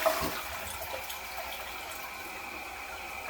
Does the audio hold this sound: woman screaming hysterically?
no